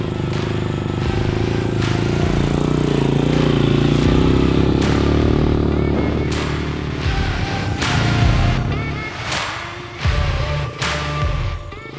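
Benelli Imperiale 400 modern classic motorcycle out on a ride, its engine droning steadily and close, rising and easing with throttle, with a few thumps and clatters from rough ground toward the end.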